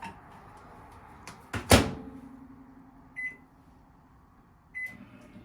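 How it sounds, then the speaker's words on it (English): A kitchen microwave oven handles a popcorn cooking run: one loud, sharp door or button clunk, then a steady low electric hum with two short high beeps from the control panel. "We're just gonna put our popcorn into the microwave using our microwave button"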